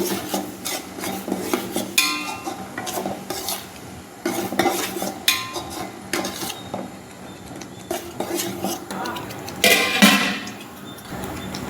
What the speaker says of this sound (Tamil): எண்ணெயில் போட்டோன்னே இது தெரிச்சுட்டே இருக்குது